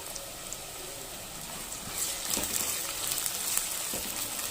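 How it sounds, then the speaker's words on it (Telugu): Onions frying in a pan as the base for a Telugu fish curry, giving a soft, steady sizzle that swells slightly midway with a few crackling spikes, close by and with no voices. "ఆనియన్ కొంచెం ఫ్రై అయింది కదండి, ఇప్పుడు మనం కర్రీ వేసి నెక్స్ట్ గ్రీన్ చిల్లీస్ యాడ్ చేసుకుందామండి"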